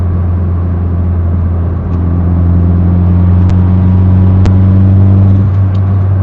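A turbocharged car accelerates under roughly 1 bar of boost, a steady deep engine drone rising slightly in pitch as it pulls, heard from inside the cabin with faint clicks and no talking.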